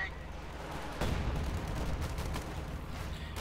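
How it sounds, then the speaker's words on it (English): An artillery barrage in Company of Heroes 2 opens with a sudden heavy blast, followed by a rumbling spread of overlapping explosions and booms that rolls on steadily. "the barrage goes off here from Stephenn"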